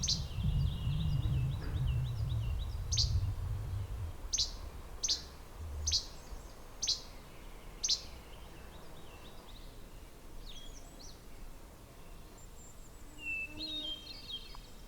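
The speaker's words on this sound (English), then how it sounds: "These least flycatchers must have a family because they're interacting with a lot of really cool and weird noises." Several short, sharp chirps from a least flycatcher repeat at uneven intervals, with thinner calls and faint twittering later over quiet outdoor background.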